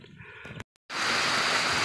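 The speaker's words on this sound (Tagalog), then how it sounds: "ang lakas ng ulan" Heavy rain pours down as a loud, dense, continuous roar. Before it, a quieter passage ends in a brief full dropout.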